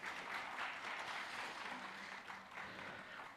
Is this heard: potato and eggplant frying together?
no